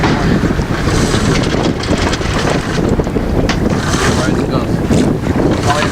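A sailboat rounds a buoy while its jib is sheeted in during an Armed Forces Cup race in Alameda's lagoon, with loud constant wind buffeting the microphone over rushing water and hull noise, and crew voices faint in the mix.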